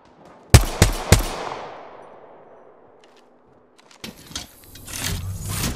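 Gunfire in the video game Apex Legends, three sharp shots in quick succession ringing out with a long fading tail, followed after a pause by further clattering bursts of action.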